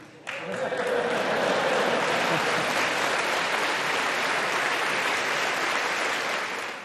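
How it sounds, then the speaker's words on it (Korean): A room full of legislators rises to a standing ovation, breaking into sustained, loud applause that starts abruptly and carries on steadily before tapering slightly at the end. "의원들은 기립해 박수로 화답하기도 했습니다."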